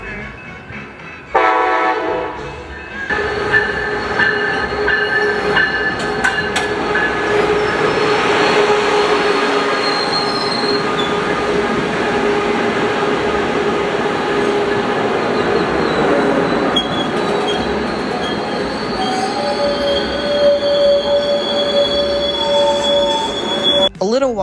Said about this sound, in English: Our next train would be coaster 699, the Padres train with SC44 Charger 5002 leading.